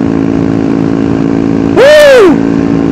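A single supermoto motorcycle engine, a Ducati Hypermotard or a Suzuki DRZ 400, revs sharply once and falls back, loud and close, over a steady background hum at an outdoor meetup.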